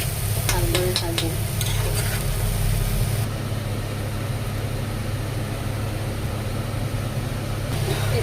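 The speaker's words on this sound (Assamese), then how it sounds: "ভালদৰে ভাজিম" A pan of spice paste sizzles in oil, a continuous near hiss with scraping stirs, with a few clattering utensil taps early on and no talking.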